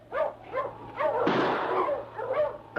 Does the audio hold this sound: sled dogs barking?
yes